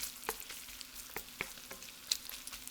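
Ham fried rice with bacon frying in a pan on high heat, a soft, steady sizzle close by with occasional light taps and scrapes of stirring.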